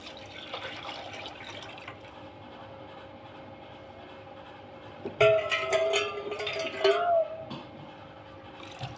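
Tamarind water poured into a pan of sautéed ingredients for a vanjaram fish curry, a brief splashing pour in the second half over a faint kitchen background.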